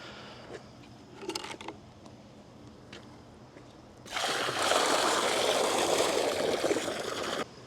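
Pool chemicals trickle quietly at first, then pour steadily into swimming pool water as a loud, continuous liquid rush that stops abruptly near the end, while the pool pump runs.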